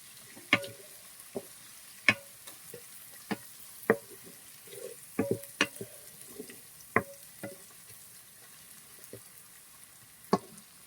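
Onions fry quietly in a pan, a faint low sizzle punctuated by scattered sharp clicks and taps of a spatula on the pan at irregular intervals, close but soft.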